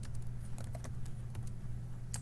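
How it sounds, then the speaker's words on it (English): Typing on a computer keyboard while entering data into a spreadsheet, a quick, irregular run of close key clicks over a low steady hum, with no talking. "starting in this cell, we're going to start typing our information"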